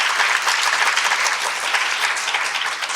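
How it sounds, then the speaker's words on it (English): An anniversary gathering for a university student parent help center breaks into a steady round of applause, many hands clapping loudly and evenly throughout, with no speech over it. "let's just go one quick round of applause for Kira."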